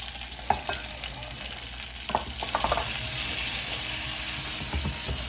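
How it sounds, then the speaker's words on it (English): Peppers sauté in hot oil with aromatics for sweet and sour chicken, a steady sizzle running throughout, broken by a few stirring clinks and scrapes in the pan. "Give it a little saute."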